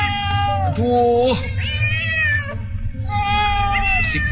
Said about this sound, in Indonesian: berisik banget nih kucing-kucing.